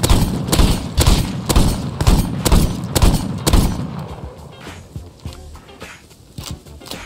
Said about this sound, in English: I'm following the sound of your gun.